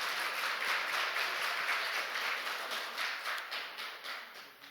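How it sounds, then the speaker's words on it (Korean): A church congregation claps together in sustained applause of praise during a second-anniversary worship service, a dense wash of hands that stays steady, then thins and fades toward the end. "우리 하나님께 영광의 박수 올려드립니다."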